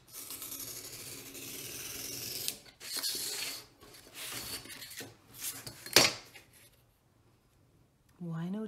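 Cardboard is cut along a ruler in several scratchy, rasping strokes of uneven length, close and moderately loud, ending in a brief pause before a voice comes in at the very end.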